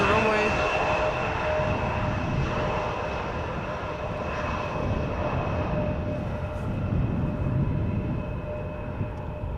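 An Embraer E2 airliner taxis toward the center runway at Schiphol Airport, a steady broadband jet engine roar with a faint whine, continuous and moderately distant throughout.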